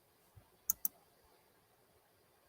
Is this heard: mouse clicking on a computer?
yes